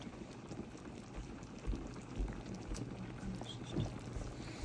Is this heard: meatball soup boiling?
yes